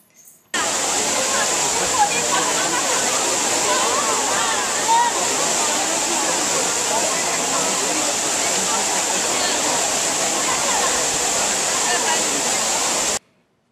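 Water from the Trevi Fountain in Rome splashes and rushes steadily, a dense continuous roar of falling water that blends with the murmur of a crowded plaza, holding evenly from start to finish.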